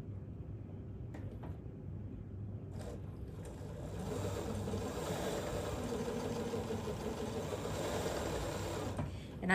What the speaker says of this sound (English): we're going to sew 1/4 inch down this side, and then we're going to sew 1/4 inch down on the other side of our drawn line